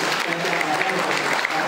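An audience at a village gathering claps continuously in a dense, crackling round of applause that stays loud and even throughout.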